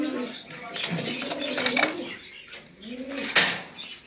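A Pakistani breed pigeon coos softly in a few repeated low phrases, with a burst of wing flapping near the end. The bird is close, and a voice is faintly present beneath it.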